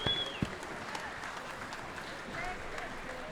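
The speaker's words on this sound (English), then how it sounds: "Ladies and gentlemen, massive round of applause for those finalists" An audience at a wool handling qualifying final clapping for the finalists, a fairly faint and diffuse spread of applause with an announcer's voice and crowd murmur over it.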